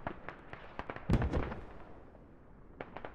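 Hell cannon shells exploding in a military shooter game battle, a string of sharp distant cracks with one heavier, louder blast in the middle, spaced irregularly and moderately faint.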